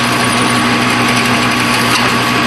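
A drill runs continuously at a steady, high-pitched whine, boring through part of a Kurt vise speed handle under repair in a workshop, loud and close, with no talk.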